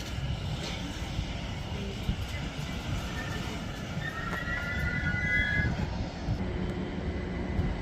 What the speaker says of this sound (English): coming in over there is a pair of Gatwick Express Class 387s